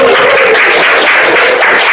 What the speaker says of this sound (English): let's make a big round of applause for the venue tonight